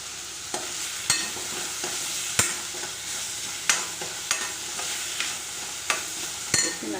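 Ingredients for a crab gravy sauté in a hot pan with salt, a steady close sizzle broken by regular sharp scrapes and clacks of a spatula stirring against the metal.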